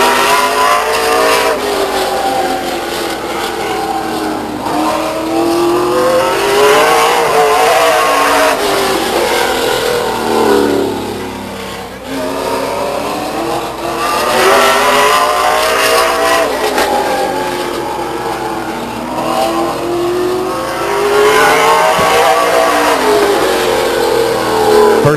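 Late model stock race cars lap Stockton 99 Speedway in 2000, engines roaring loud and close in repeated swells as each car revs hard, passes and fades, sweeping pitch rising and falling in a regular rhythm around the oval.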